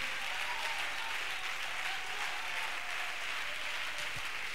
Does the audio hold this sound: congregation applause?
yes